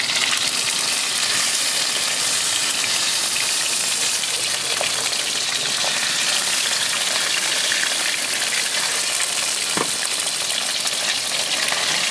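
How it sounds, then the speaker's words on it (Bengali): Pabda fish frying lightly in hot oil, a steady, loud, continuous sizzle and crackle of oil that holds evenly throughout with a few small pops. "সব মাছগুলো এমনি করে ভেজে নেবো হালকা হালকা"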